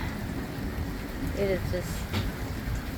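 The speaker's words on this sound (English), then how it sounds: "First comes the wind, lightning, and now the rain." Rain from a Baja chubasco storm falls around a boat as a steady, moderately quiet hiss, with a person speaking briefly over it.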